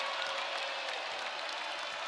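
A basketball arena crowd at a women's college game between Indiana and Harvard keeps up a dense, even roar of cheering and clapping, sustained and fairly distant.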